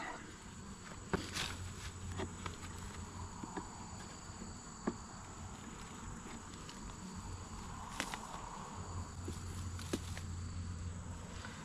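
A steady, soft honeybee hum fills the background during a hive inspection, with occasional faint clicks and light knocks over it.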